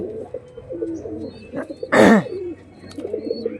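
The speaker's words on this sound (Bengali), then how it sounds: "এই দেখো এই কবুতরটা ডাকাডাকি করছে" Pigeons coo in low, repeated murmurs close by, with one louder burst of fluttering noise midway.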